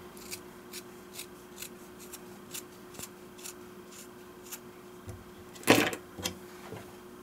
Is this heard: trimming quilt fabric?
yes